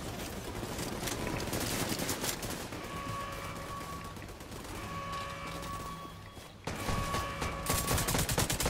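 Rapid automatic gunfire in The Division 2, with dense rattling bursts of shots loud and close, a short pause, then another volley of fire.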